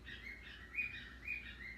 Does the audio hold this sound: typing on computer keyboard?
no